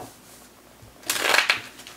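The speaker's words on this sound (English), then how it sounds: "A couple more shuffles here." A tiny tarot deck shuffled by hand in a single brisk riffle of papery card flutter about halfway through, close and clear after a quiet start, with no talk.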